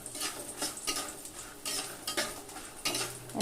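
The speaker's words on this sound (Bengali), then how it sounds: "বড়িগুলোকে একটু লাল লাল করে ভেজে নিব" Bori lentil dumplings fry in hot oil in a pan, a steady sizzle punctuated by repeated scraping strokes of a spatula stirring them, close and moderately loud with no talking.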